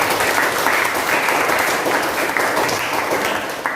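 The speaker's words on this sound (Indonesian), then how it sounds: "Tepuk tangan buat Selvina." Steady, dense applause from a classroom of students during an economics lesson, filling the room at an even level from start to finish.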